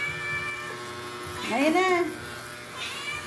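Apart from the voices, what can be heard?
cat meowing at feeding time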